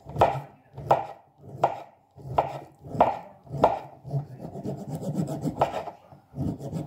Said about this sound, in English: So I'm just kind of shaving off like a powder here.